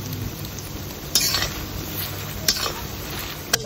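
Whole garam masala fries in hot oil with cumin seeds and onion in a pan, crackling steadily while a utensil stirs it, with three sharp metallic clinks against the pan.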